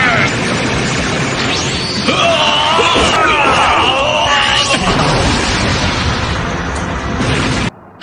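A loud, roaring cartoon-style explosion from the anime Dragon Ball Super rumbles for several seconds while voices shout and groan over it, ending abruptly.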